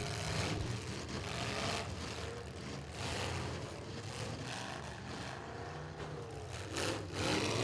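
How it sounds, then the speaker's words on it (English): A demolition derby car at a county fair struggles under power in muddy conditions, its rough, labouring engine drone resembling an old Farmall tractor, loud and continuous alongside broad crowd and arena noise. "She's starting to sound like an old school farmall tractor."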